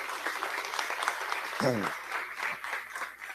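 Church congregation applause during a Portuguese-language service, a steady wash of clapping filling the room, with a voice briefly rising over it.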